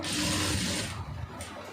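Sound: sewing machine stitching a blouse neckline

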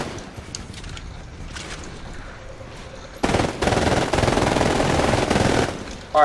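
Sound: submachine gun fire in the video game Titanfall

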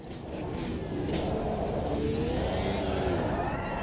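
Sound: tires sliding in Automobilista 2 racing video game

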